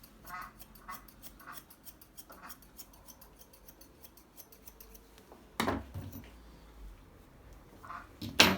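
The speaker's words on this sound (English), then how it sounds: "If you have got thinning scissors, you can go over to soften it all." Thinning scissors trim a dog's fur during basic grooming, a run of quick, soft metallic snips close to the mic. A louder handling clatter follows later, and a quiet voice speaks underneath.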